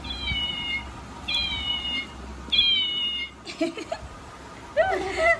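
Three electronic meows repeat at an even pace, bright and close, like a toy cat; a voice and laughter follow.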